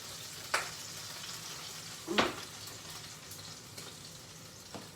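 Grease sizzles in a pan on a stove, a constant soft hiss broken by a few sharp pops that stand out clearly.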